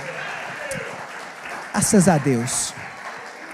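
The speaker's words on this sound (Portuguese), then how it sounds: "Então você pode aplaudir e glorificar a palavra do Senhor." A congregation at an evangelical church service applauds in a soft, steady background wash while voices speak over it, one louder voice rising prominently midway.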